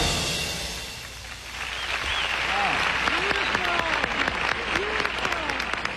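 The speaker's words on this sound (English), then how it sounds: "People were clapping and cheering." Festival audience at Monterey clapping and cheering, the applause swelling into a dense, lively patter with scattered whoops and shouts rising over it.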